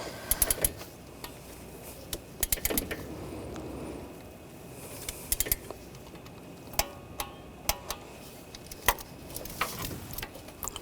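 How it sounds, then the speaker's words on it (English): A torque wrench clicks and ratchets while tightening the thermostat housing bolts on a Buick Encore. Bursts of fast ratcheting ticks are followed by isolated sharp clicks, close and clear over a quiet background. "you want to torque these bolts to 80 inch-pounds"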